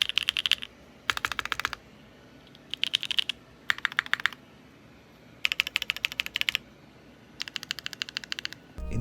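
Typing on a Mode Envoy mechanical keyboard fitted with Gateron Cream Soda switches gives close, crisp clacking bursts of keystrokes in short rhythmic runs separated by brief pauses.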